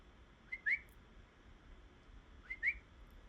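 A person gives two short, rising whistles about two seconds apart to call pet guinea pigs, faint and close, with quiet room hiss between them.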